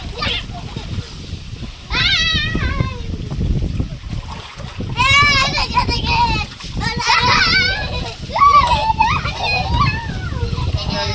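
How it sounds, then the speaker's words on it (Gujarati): A family bathing in an outdoor water tank on a farm: repeated splashes and sloshing close by, mixed with children's excited voices and chatter throughout. "બધા નાય છે કુંડામાં."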